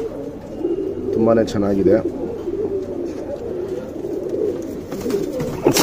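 A male and a female Chinese pigeon coo in soft, repeated bursts near the start, with low ambient murmur and a person speaking throughout.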